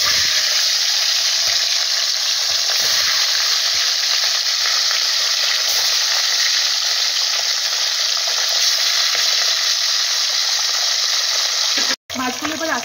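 Parshe fish frying one by one in smoking-hot oil over a lowered gas flame, giving a steady, loud, close sizzle with dense crackling that holds throughout, then briefly cuts out near the end.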